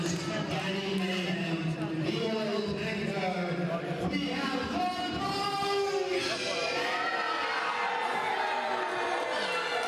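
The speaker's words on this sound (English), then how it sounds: "Crowd really not liking the Boneshakers" A crowd at an amateur wrestling match reacts loudly to the Boneshakers, a continuous roar of shouting and jeering voices that fills the hall while a commentator talks over it.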